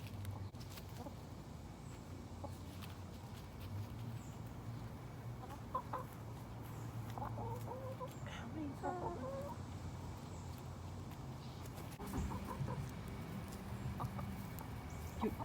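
Chickens cluck softly and intermittently over a low, steady background hum, with a few sharper calls now and then.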